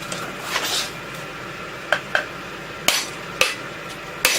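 A club hammer strikes the edge of a seized small engine's flywheel in a series of sharp metallic raps, about six hits spaced irregularly, close and clear over a quiet room.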